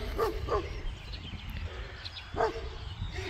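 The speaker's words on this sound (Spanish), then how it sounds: "Es un perro de trabajo." A working ranch dog in Jewitt, Texas gives a few short barks, two quick ones near the start and another a couple of seconds later, close by over outdoor background noise.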